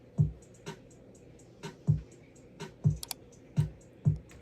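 A programmed hip-hop beat in FL Studio plays a quiet, dry pattern of clicky hi-hat ticks over evenly spaced low thumps, in a steady loop.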